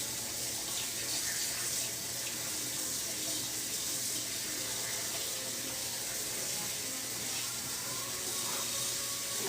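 Tap water running steadily over a tie-dyed hoodie being rinsed in a sink, a continuous soft splashing wash with no break.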